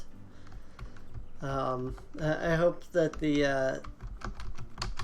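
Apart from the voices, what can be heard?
computer keyboard typing near the microphone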